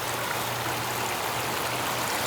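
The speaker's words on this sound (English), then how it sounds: "you got lights in here, and this waterfall" A backyard pond waterfall and stream rush continuously with steady, full, close splashing and trickling water and a faint low pump hum beneath, with no voices.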